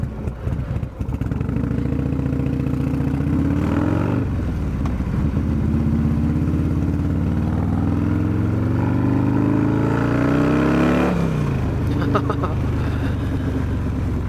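A Harley-Davidson Low Rider S with an M8 Softail engine, 475C Stage 2 build, drones loud and close on a dyno, its rising exhaust note climbing steadily through the run before dropping and surging again.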